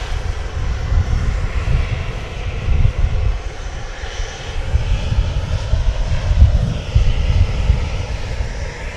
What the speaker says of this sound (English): Flight 1536 to Des Moines. It's an Airbus A320.